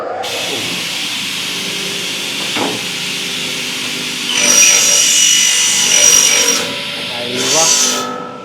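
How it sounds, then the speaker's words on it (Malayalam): A double head cutting machine cuts UPVC window profile, with a steady close mechanical whine broken by two loud, bright cutting bursts near the end, over a constant workshop hum. "ഇത് ഡബിൾ ഹെഡ് കട്ടിംഗ് മെഷീനാണ്"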